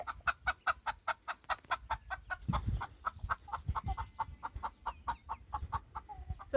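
Backyard hens on a ranch cluck in a steady, rapid run of sharp repeated calls near their newly remodeled coop, with a low rumble and a brief noisy burst midway.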